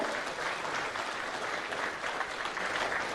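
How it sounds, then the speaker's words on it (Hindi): Audience applause fills a ceremony hall during an appointment-letter distribution event in Jharkhand, steady and dense clapping from a large crowd throughout, moderately distant with no talking over it. "तालियां आपकी ओर से हो।"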